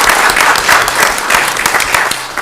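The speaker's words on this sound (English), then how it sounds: "let's give them a nice round of applause for coming out" A round of applause at a Township of Union committee meeting, with a roomful of people clapping briskly and close for a couple of seconds.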